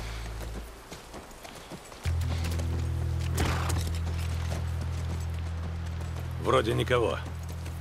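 Horse hooves clip-clop in The Last of Us Part 1, heard as soft, steady footfalls over a low continuous rumble, while a voice speaks briefly near the end.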